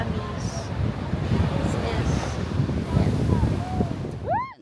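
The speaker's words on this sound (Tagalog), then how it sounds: "Lakas ng hangin." Strong wind buffets the microphone on an island shore in Pangasinan, a steady loud roar with gusts, faint voice-like tones drifting through, ending in a brief sweeping whoosh.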